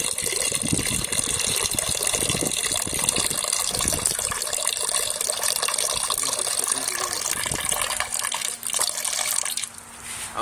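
Water glugging and gushing out of a tipped gallon jug, a loud continuous pour that runs for several seconds before tapering off near the end.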